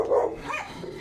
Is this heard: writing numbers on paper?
no